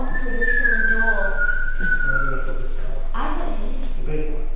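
A person whistles indoors at the Workhouse Museum in Ripon, holding a clear tone that slowly slides downward in pitch and then breaks into shorter notes, loud and close, with voices around it.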